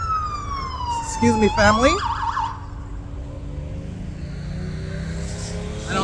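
A police siren wails past outdoors, its rising and falling tone sweeping down as it passes and fades into the distance, with a person speaking briefly over it.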